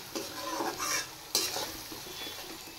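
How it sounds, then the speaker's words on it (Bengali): Spices sizzle and fry in a pan for katla fish head curry, with a couple of stirring scrapes cutting through the steady close crackle. "এবার আর একটু ফ্রাই করে নেব।"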